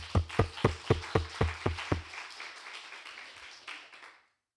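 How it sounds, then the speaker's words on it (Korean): A church congregation at a Friday praise and healing prayer service claps in unison: about eight steady, evenly spaced claps over two seconds, then a reverberant fade in the hall. "우리 박수로 하나님께 영광"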